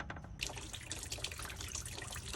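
Coolant drains from the radiator petcock of a 6.7 Cummins truck in a faint, steady trickle and splash that continues without a break.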